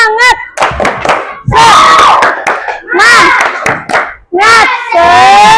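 A class of children performs a tepuk semangat clapping and chanting routine, several close, loud bursts of group shouting with claps between them, ending in a long sustained cheer.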